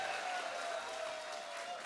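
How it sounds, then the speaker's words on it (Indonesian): An audience at a televised Indonesian preaching competition applauds, a dense wash of clapping heard from a distance and quite faint, with a steady tone running underneath. "Boleh tepuk tangan untuk Jamilah, Bogor."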